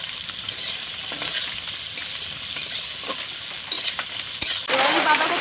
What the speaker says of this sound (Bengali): এবার ক্যাপসিকামটা দিয়ে দিচ্ছি।